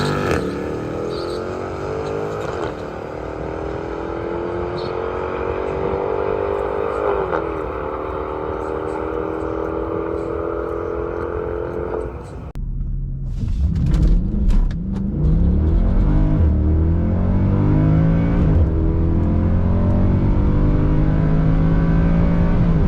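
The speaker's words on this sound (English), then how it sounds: "You can hear over this run, if you listen really closely, I get wheel spin in first, second and a tiny bit in third." Mercedes C63 AMG on a sprint run at a drag racing event, first revving and rising through the gears, then a loud, rough roar with wheelspin at launch and through the early gears, under talk throughout.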